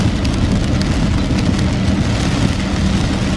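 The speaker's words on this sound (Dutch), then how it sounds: "En het regent vandaag de hele dag." Steady, dense hiss of a rainy Monday's all-day rain, loud and continuous with no breaks and no voices.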